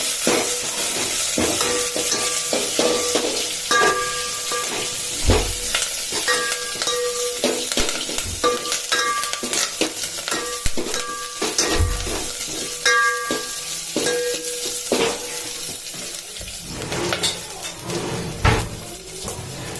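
Green chilies, curry leaves and cumin sauté in oil in a pot, a steady close sizzle with repeated scraping stirs and occasional metallic clanks, no voices.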